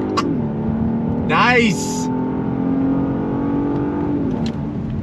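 A 2022 Genesis G80 sport sedan accelerates in second gear using the paddle shifters, its engine hum holding steady and strong inside the cabin while a voice gives a brief exclamation.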